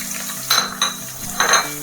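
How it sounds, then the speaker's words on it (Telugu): Green chillies and chopped onion frying in a pan, with a soft steady sizzle broken by a few louder clattering stirs and scrapes of a utensil against the pan. "ఇవి మంచిగా ఫ్రై అయ్యేంత వరకు ఒక 5 నిమిషాలు ఫ్రై చేసుకుందాము"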